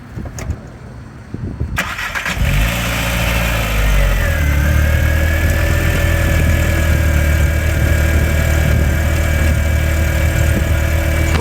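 An LS-swapped 1994 OBS truck engine cranks, catches and settles into a loud, steady idle close by, with a constant droning rumble and a whining air pump running throughout.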